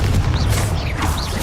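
A Confringo blasting spell in Hogwarts Legacy rumbles heavily and continuously, with swooshing magical tones rising and falling above the deep boom.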